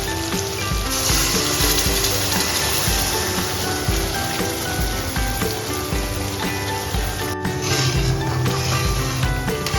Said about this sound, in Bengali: এবার পেস্ট করে রাখা গ্রেভিটা এটা আমরা দিয়ে দেবো।